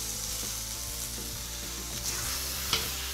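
Chicken meat pulled off skewers fries in a pan at a camp cooking setup, giving a steady, close, loud sizzle that barely changes, with a faint clink or two near the end.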